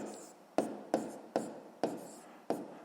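A pen or pencil writes numbers by hand on paper, working a column subtraction of decimals, in five short, close scratching strokes at a steady, unhurried rhythm, with no talking.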